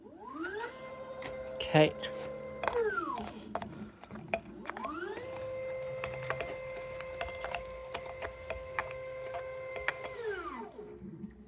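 A Matrix Gen 5 filler machine runs a fill cycle, giving two long mechanical whirring runs with rising and falling pitch, separated by clicks and brief clatter, with a short spoken word early on.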